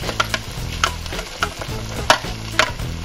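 Carrots and celery stir-frying for chopsuey after garlic and onion, a loud close sizzle broken by repeated rhythmic spatula scrapes and clacks against the pan, with no voices.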